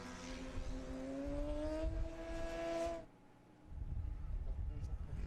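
A Formula SAE race car engine whines past during the endurance event with rising pitch, then fades away, leaving a low rumble of engines and crowd noise in the background.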